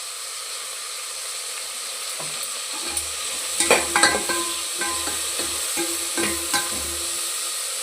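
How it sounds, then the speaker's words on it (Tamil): Eggplant sautéing in a pan with salt and turmeric, a steady close sizzle under a series of scraping, clattering stirs from a spoon against the pan that come in a loose rhythm. "இந்த கத்திரிக்காயை வதக்கக்குள்ள உப்பு மஞ்சத்தூள்"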